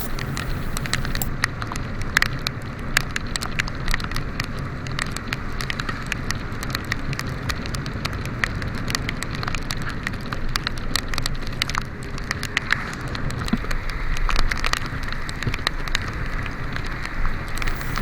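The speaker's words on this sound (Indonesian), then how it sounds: "mendekati perbatasan Purwantoro, ini hujannya makin lebat" Heavy rain pours down during a night motorbike ride near Purwantoro, Java, a dense, continuous hiss and patter of drops over low road and engine rumble, loud and steady throughout.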